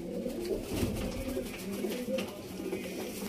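Pigeons coo steadily in low, soft repeated calls over a constant background hum, with no one talking.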